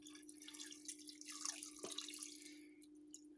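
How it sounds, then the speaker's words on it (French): Beef broth poured into a cooker over the marinade for boeuf bourguignon, a quiet close-up trickle and drip of liquid running for a few seconds over a steady background hum. "Là je vais rajouter mon bouillon."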